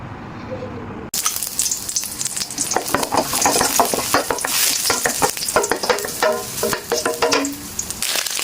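Shrimp, with heads on, hits a hot pot for a Thai mixed rice soup with squid, pork and shiitake mushrooms, bursting into a loud, steady sizzle with stirring scrapes and bubbling.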